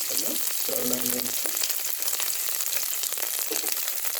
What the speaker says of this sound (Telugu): ఇప్పుడు ఆనియన్స్ని ఆయిల్లో వేపుకుందాం